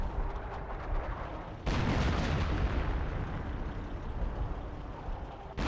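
A machine gun emplacement fires in the World War II strategy game Company of Heroes amid a dense battle din, a loud crack opening a sustained roar of gunfire, rumble and distant blasts with no clear separate shots.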